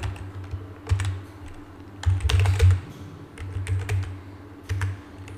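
Keys clatter on a computer keyboard as an email address is entered, a quick irregular patter of clicks in short bursts with brief pauses, close and alone without voices.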